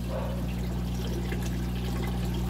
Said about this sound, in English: The water is now starting to exit this uh, part or this part of our siphon.